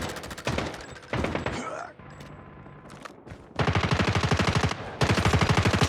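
Call of Duty multiplayer gunfire: rapid automatic bursts rattle close and loud in several volleys, separated by short pauses with faint game sounds.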